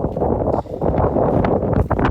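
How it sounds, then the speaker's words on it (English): Wind buffets a microphone outdoors, a loud, uneven low rumble that gusts and briefly dips before surging again, with scattered rustling bursts toward the end and no clear speech. "It's a bit windy"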